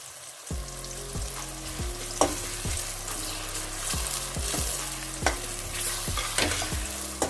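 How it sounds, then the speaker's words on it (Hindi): Onions fry in a pan for a baingan masala, sizzling loudly and steadily up close while a spatula stirs them with regular scraping strokes and occasional sharp taps. "प्याज को ऐड करने के बाद हम इसको थोड़ा सा भून लेते हैं"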